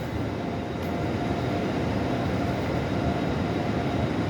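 Continuous rumbling roll of a passing train of British Rail Mark II air-conditioned coaches, a steady dense clatter and rush at even loudness throughout with no voices.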